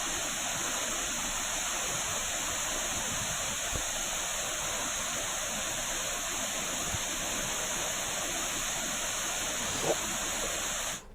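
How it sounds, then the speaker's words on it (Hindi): Swollen Jogidhara mountain stream in Uttarakhand rushing after a night of heavy rain, a steady, dense roar of fast water close by that stays loud and unbroken throughout. "रात हुई तेज बारिश के बाद जोगीधारा नाला भी उफान पर आ गया है।"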